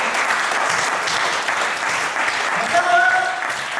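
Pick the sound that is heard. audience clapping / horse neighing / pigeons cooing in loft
audience clapping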